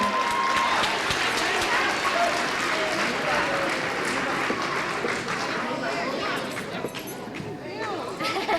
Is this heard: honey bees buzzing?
no